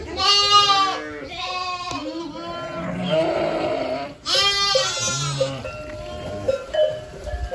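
Sheep and newborn lambs, some of them twins, bleat repeatedly in a village barn, with several loud, close calls overlapping one another and fainter calls between them.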